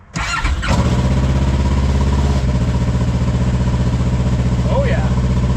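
A Kawasaki KRX side-by-side engine fitted with a new Brute Performance fuel pump cranks and fires, then settles into a loud, steady rumbling idle close by, running without pause for several seconds.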